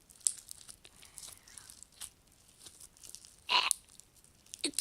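Homemade slime squeezed by hand, giving faint, scattered crunching and crackling sounds with one louder crinkly burst near the end, quiet and close.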